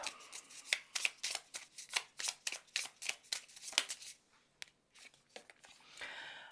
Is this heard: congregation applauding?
no